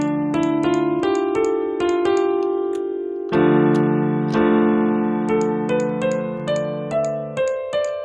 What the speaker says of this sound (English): the same melody could be played from the 1st note of the scale.